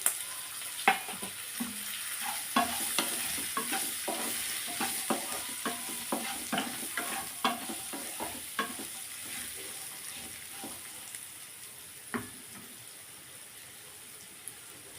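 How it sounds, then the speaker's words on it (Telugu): Soaked peanuts tipped into a pan and stirred, with frequent scraping and clinking strokes over a soft sizzle, close by and with no talking. "మనం ముందుగా ఇక్కడ నానబెట్టుకున్న పల్లీలను దీంట్లో వేసుకోవాలి"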